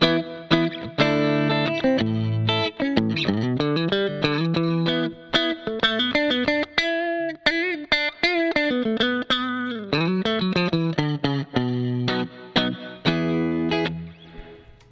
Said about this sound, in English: Got a little bit of ducking reverb on the signal, and that's it. The reverb, everything's coming from the M13.